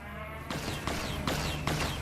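Brahmin cow shot in Fallout: New Vegas, a loud sequence of gunshot cracks and bellowing animal cries repeating roughly every half second, all close and dense.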